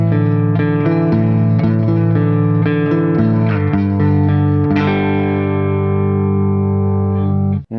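Electric guitar with distortion plays the arpeggio and sweep from a song, ringing notes picked in a steady pattern that ends on a sustained chord, loud and alone.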